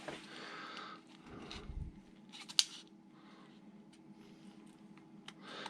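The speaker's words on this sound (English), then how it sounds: "Scissors better." Scissors snip during the refitting of a vintage Tamiya Lancia Delta 1/10 RC car, giving a few short, quiet cutting clicks with one sharper snap amid faint handling noises.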